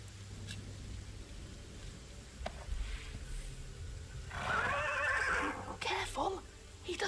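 A horse whinnies loudly in an audiobook drama of The Pillars of the Earth, a shrill quavering neigh midway through, over low hoof shuffling and quiet ambience.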